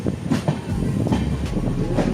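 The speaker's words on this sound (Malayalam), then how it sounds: "Goods train." A goods train rumbles past close by, its wagons rattling with a rhythmic clickety-clack over the rails, loud and continuous.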